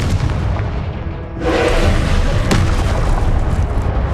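Spell blast from the Hogwarts Legacy video game: a sharp booming burst erupts about a third of the way in, followed by a sustained rumbling roar and a second crack, loud with no speech over it.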